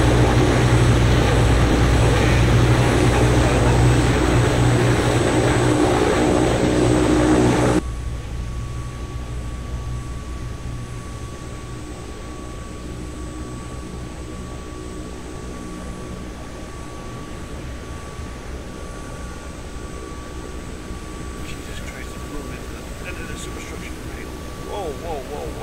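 Simulated helicopter in the FlightGear flight simulator game, flying near an offshore rig's landing pad: a loud, steady rotor and engine drone that abruptly drops to a quieter, even hum with a thin whine, continuing throughout.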